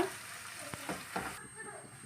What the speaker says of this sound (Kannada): ಇದು ನಾವು ತುಪ್ಪದಲ್ಲೇ ಚೆನ್ನಾಗಿ ರೋಸ್ಟ್ ಮಾಡ್ಕೊಳ್ಳೋಣ